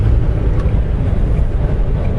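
Strong wind buffets the microphone on a very windy day high up on an elevated outdoor spot, a loud continuous roar with no talk.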